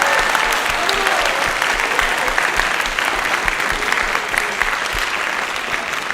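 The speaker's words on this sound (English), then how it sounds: "give Matthias a round of applause" Steady audience applause at a spring school band concert, many hands clapping evenly for the whole stretch, full and close with faint crowd murmur underneath.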